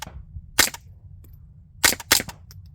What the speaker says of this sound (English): I'm just going to be using the 22 rifle